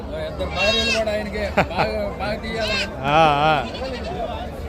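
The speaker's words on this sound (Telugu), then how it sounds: "సో ఇవన్నీ మేకపోతులు అండి" Male goats bleat at a livestock market in Gudur, with several wavering, nasal cries rising over a busy background of people talking nearby.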